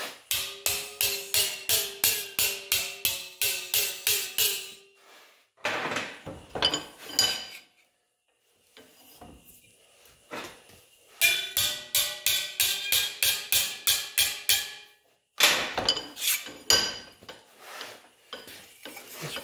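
Sheet metal for a rusty 1960s GM car trunk floor repair is hammered over to a 90-degree bend in a vise: close, loud, rapid ringing blows in regular runs, separated by pauses and softer handling noises, with no talking.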